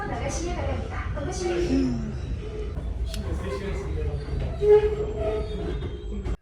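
Subway train running at a station in Seoul late at night, a steady low rumble of wheels and rail with faint squeals, continuous and fairly close, with voices talking over it.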